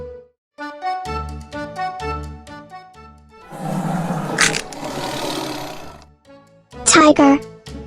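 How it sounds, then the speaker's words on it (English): A tiger roar sound effect plays as a rough, noisy burst midway through, set within bright children's music, with a short voiced sound near the end. "A baby tiger is called cub."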